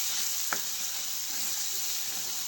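Turmeric, red chilli powder, salt and black chilli powder roast in a pan for a drumstick curry, giving a soft steady sizzle with one brief knock near the start, fairly quiet and without talking.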